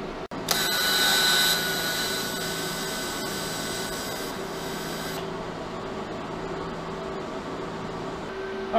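Welding spacers onto a custom low-budget hydraulic handbrake gives a loud, steady crackling hiss. It starts abruptly, stays strong with a brighter first stretch, then continues evenly to the end with no speech.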